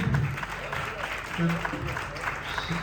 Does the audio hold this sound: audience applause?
yes